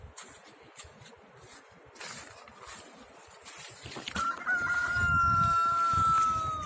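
A small rooster crows in a garden by a summer house, its long drawn-out call clear and fairly close after a few seconds of quiet outdoor background.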